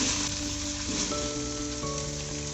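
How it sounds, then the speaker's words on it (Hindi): Ginger and garlic paste frying in a pan with tomato about to go in, a steady dense sizzle running throughout, close and fairly loud, with faint tonal hum beneath and no talking. "अदरक लहसुन को मैंने 1 मिनट तक भून लिया है"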